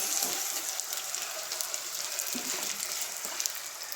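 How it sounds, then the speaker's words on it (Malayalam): Fish frying in a kadai, a continuous bright sizzle with scattered small crackles, heard up close without speech. "മീൻ രണ്ടാം ട്രിപ്പാണ് വെന്തുകൊണ്ട് നിൽക്കുന്നത്"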